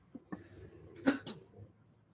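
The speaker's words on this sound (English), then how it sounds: "Sorry, I was coughing." A couple of short coughs from a webinar presenter, close to the microphone, with a sharper burst in the middle followed by a softer one, over near silence.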